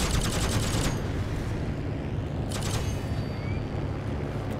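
Bursts of automatic gunfire in the video game Heroes & Generals, rapid rattling volleys over a constant loud rumbling background, with two sharp bursts standing out.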